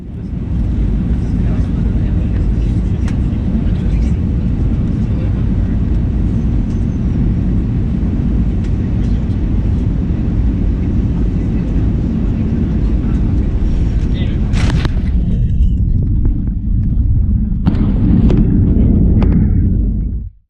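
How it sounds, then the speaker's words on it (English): A Lufthansa Airbus A321 landing at Frankfurt, heard from inside the cabin as a loud, steady low roar of engines and airflow throughout. Some brief clatter comes near the end. "let's listen to and look at the landing in Frankfurt"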